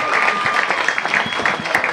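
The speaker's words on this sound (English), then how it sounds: "To kick away forward, and the crowd goes nuts after that one." A crowd at an under-19 football grand final applauds and cheers after a goal, a dense wash of clapping with a commentator talking over it.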